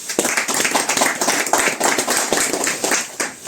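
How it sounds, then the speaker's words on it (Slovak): A small crowd at an autumn feeder fishing competition claps for the participants, a brisk burst of applause lasting a few seconds with no talking over it. "chcem všetkým zatleskať a zagratulovať"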